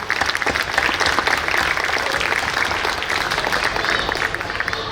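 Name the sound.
audience applause at preschool annual gathering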